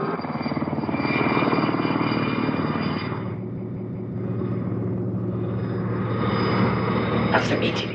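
A helicopter drones loudly and continuously overhead, its rotor chop pulsing steadily throughout, with a short clatter near the end and no voices over it.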